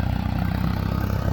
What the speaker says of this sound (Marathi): ट्रॅक्टरवाला एक नंबर गाणे लावून ट्रॅक्टर चालवून राहिला.